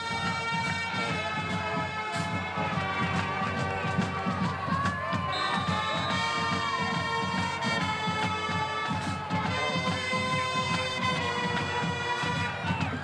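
A crowd in the stands at a high school Thanksgiving football game makes a steady, subdued murmur of distant voices and scattered calls, with no cheering swells, filling the whole stretch.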